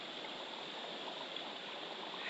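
A forest creek flows in a steady, even rush of water, a soft continuous hiss heard alone without voices.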